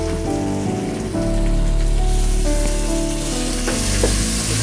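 Beef spices with ginger paste, chili, cardamom and bay leaf sauté in hot oil, giving a loud, steady sizzle and crackle close up, with a few stirring scrapes and no talking.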